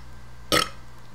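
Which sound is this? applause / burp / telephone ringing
burp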